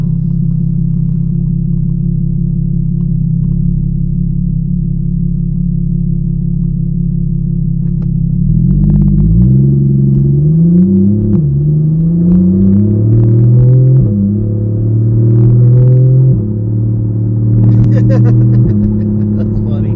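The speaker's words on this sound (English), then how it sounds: "why is the truck so loud?" A loud truck engine rumbles steadily at close range throughout, its low drone shifting pitch in the second half as it revs and settles, with people talking over it.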